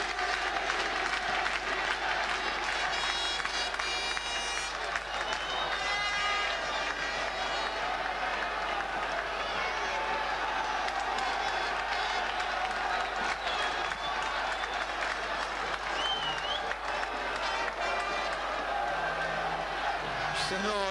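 Football supporters of Livorno Calcio, a Serie C1 club, roar and chant in a packed stadium during the 2001-2002 season, a steady wall of crowd noise with clapping that carries on unbroken, heard from a distance.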